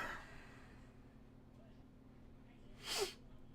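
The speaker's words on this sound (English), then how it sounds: "do apologize if you guys hear me sniffling" A single sharp, loud sniff from a man with a runny nose near the end, after a quiet stretch with faint room tone.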